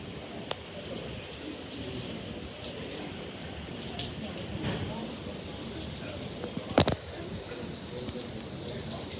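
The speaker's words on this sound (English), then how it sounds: "I think it's mostly just heavy rain." Heavy rain pours steadily at Port Canaveral, Florida, a dense continuous hiss of drops on surfaces, with one brief louder knock near the end and faint voices in the background.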